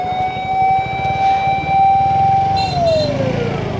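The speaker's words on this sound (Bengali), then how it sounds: "দেখো দেখো অ্যাম্বুলেন্সে আটকায় রেখে দিছে" An ambulance siren on a busy road wails loudly, holding a steady tone before sliding down in pitch, over the rumble of nearby traffic and engines.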